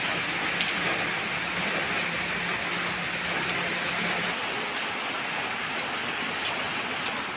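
Rain falling around a house in steady, even hiss, a dense continuous patter close by with no pauses or voices.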